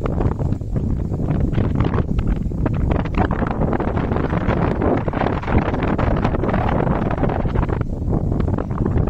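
Strong gusting wind buffets the microphone at an outdoor 120 m air rifle range, a dense, continuous rumbling roar with fluttering bursts throughout and no voices.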